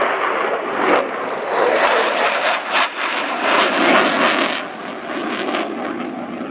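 A Belgian Air Force F-16 fighter jet flies a display at RIAT 2013 with a loud, roaring jet blast that swells and crackles as it passes, holding strong and close for several seconds.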